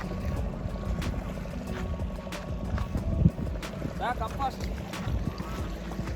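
A boat ride on water at dusk near Vizag Colony, Telangana, with a steady low motor rumble and wind buffeting the microphone, a brief knock midway, and a faint whistling tone.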